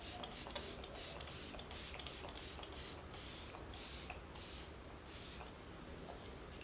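Repeated short bursts of fine hydrating setting spray misted onto a face hiss in several quick puffs in a row, close and fairly soft, with no voices.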